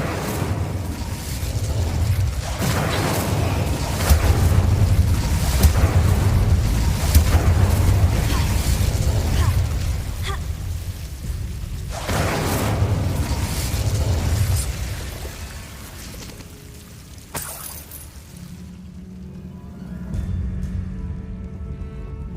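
Bursts and booms of magical combat from Hogwarts Legacy, the Incendio fire spell flaring amid layered blasts and whooshes, loud and dense through most of the passage before dropping to a quieter rumble near the end.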